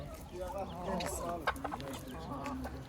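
Village roosters and chickens cluck and call at a Turkish poultry market in Karaman, fairly quiet and mixed with background chatter of people nearby.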